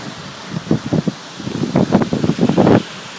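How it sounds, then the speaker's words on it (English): Strong gusts of wind during a severe storm buffet the microphone in rough, repeated surges that build and swell, loud and close, with no talking. "Oh, here comes another gust."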